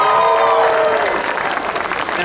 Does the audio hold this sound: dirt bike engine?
no